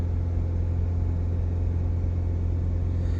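A Mini Cooper S engine with a catalytic converter fault holds steady at 2,500 RPM, a loud, even, close rumbling drone with a strong low hum and no change in pitch. No speech.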